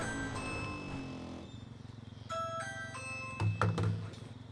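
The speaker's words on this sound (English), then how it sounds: "I totally didn't have my doorbell ring just now" A doorbell chimes in the background during a Far Cry 5 live stream: several clear, tonal ding-dong notes ring out fairly faintly over low game ambience, followed by a couple of dull thumps.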